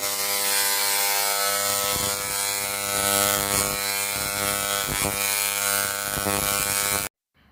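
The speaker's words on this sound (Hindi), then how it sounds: "पीछे इसके बालों में ट्रिमर चल चुका है" An electric hair trimmer buzzes steadily while cutting a child's hair, a close, continuous mechanical whir with faint clicking pulses, running nonstop for about seven seconds before cutting off abruptly.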